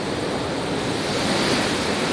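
Sea waves surge steadily at Shivrajpur beach near Dwarka, a loud continuous roar of surf mixed with wind buffeting the microphone, with no voices.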